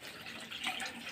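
Water is poured into a cooking pot while making a curry with taro-leaf pakoras, a brief, close splashing gush with no talk.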